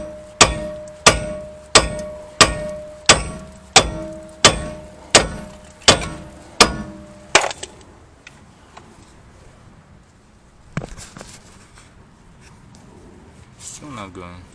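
A 4-pound hammer pounds a Porsche Boxster wheel upright about ten times in a steady, loud metallic rhythm, then stops; a couple of isolated knocks and faint handling noises follow.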